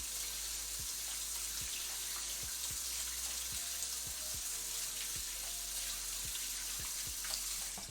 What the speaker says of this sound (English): Always make sure you're washing your hands well.